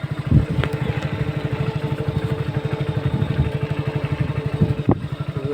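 A motorcycle rides along a small village road, its engine chugging in a steady, close, continuous rhythm with a couple of brief louder bumps or clunks along the way.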